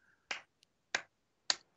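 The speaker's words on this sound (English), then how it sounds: "Are you clapping for me right now?" Three sharp, evenly spaced claps or snaps ring out close and crisp in a Far Cry 4 game session, each short and bright against near silence.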